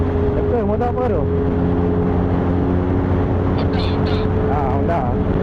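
A Honda 1000 motorcycle engine idles and revs with a low steady drone on a night ride in rain, with brief rising revs at intervals under people talking nearby.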